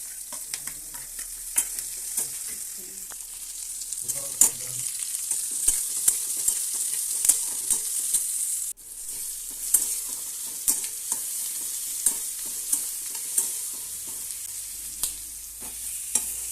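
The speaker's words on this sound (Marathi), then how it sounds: "आता भाजी करते मी बटाट्याची" Potato vegetable curry sizzles steadily in a pan while a spoon stirs it, with regular scraping clicks and knocks over a continuous bright hiss.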